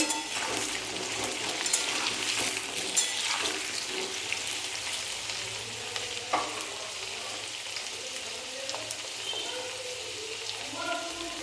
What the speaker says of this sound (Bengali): আলোগুলোকে খুব ভালো করে ভেজে নেব